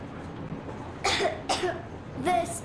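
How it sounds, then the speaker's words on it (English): Three short coughs from a child in the video game Metro Exodus, one near the start, another a moment later, and a final one after a pause, heard over a quiet background hum. "I have this cough."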